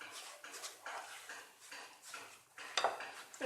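No-bake dessert ingredients are mixed in a bowl, a run of soft rhythmic scraping and tapping strokes, fairly quiet and close, with a few brighter clinks toward the end and no talking.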